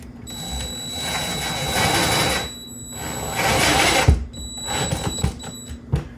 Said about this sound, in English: If you are using a ratchet driver to put these in